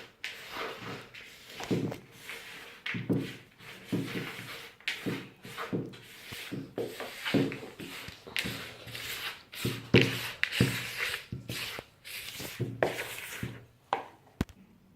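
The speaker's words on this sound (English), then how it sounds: "I've got a little wooden spoon. And then you just want to mix them together so you have a chocolate chip cookie kind of mixture looking thing" Chocolate chip rock cake dough is mixed with a little wooden spoon in a bowl, giving repeated close scraping and rubbing strokes in an uneven rhythm, some strokes louder than others.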